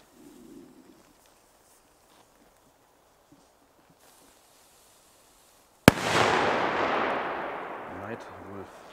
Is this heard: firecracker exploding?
yes